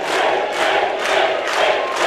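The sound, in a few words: boxing crowd cheering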